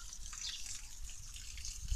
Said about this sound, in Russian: Такой водопадик небольшой.